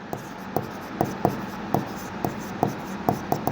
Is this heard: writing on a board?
yes